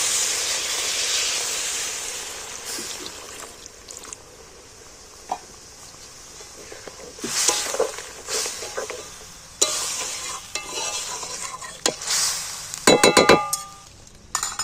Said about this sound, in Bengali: এবার আমি জল দিয়ে দিচ্ছি একটু।